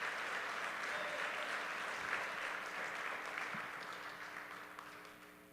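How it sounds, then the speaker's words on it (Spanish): A church congregation gives a sustained round of applause, fairly soft and roomy, that slowly tapers off toward the end. "Denle un fuerte aplauso al Señor."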